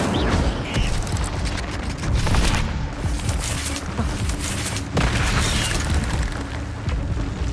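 Repeated Incendio fire spells in Hogwarts Legacy go off as a string of booming, crackling blasts over a thick, steady bed of combat noise, with sharp hits near three and five seconds.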